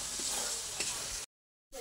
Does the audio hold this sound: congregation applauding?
no